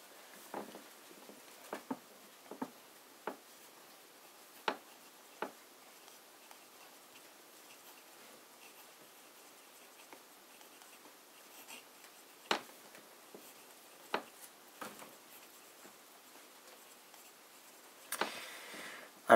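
Fountain pen with an italic broad nib scratching across paper, giving soft, sparse strokes and ticks at irregular intervals, faint and alone in a quiet room.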